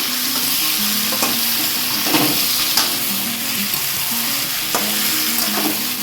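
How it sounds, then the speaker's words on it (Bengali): Marinated mutton hits hot oil in a pan for a desi-style curry, giving a steady loud sizzle with repeated scraping stirs of the spatula throughout, no talking. "আগে থেকে ম্যারিনেট করা মাংসটা এবার ঢেলে দিলাম।"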